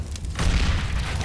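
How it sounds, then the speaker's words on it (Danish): A flashbang grenade goes off in a video game, a dull booming burst that swells after a short lead-in and holds steady to the end, with a faint high whine near the close. "Throwing flashbang."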